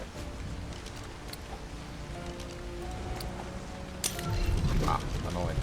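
Rain falls in the video game Ark Survival Ascended, a soft patter under scattered clicks and game noises, growing louder and busier near the end.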